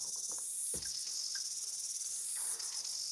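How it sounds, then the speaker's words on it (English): Cicadas in the countryside drone in a continuous high, shrill buzz that swells and eases, loud and steady throughout, with a few faint soft knocks and rustles nearby. "Got some cicada sound, just hanging out."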